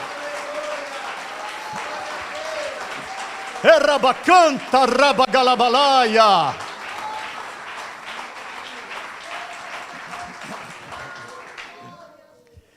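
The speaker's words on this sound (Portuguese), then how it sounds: "Aplauda ao Senhor" A church congregation applauds during a worship service while a loud voice shouts and speaks over the clapping, which carries on steadily beneath continued talk before fading at the end.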